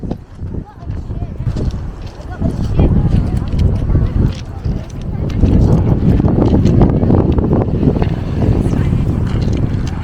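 Strong, cold wind at Caernarfon Airport, Wales buffets the microphone in a loud, continuous rumble that swells and gusts throughout, with muffled sounds beneath.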